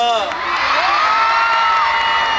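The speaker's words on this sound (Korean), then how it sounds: "다시 한번 큰 박수 부탁드리도록 하겠습니다" A concert audience at an outdoor K-pop radio show performance in Gwacheon cheers and shouts loudly and continuously, with high excited voices and whoops filling the whole stretch.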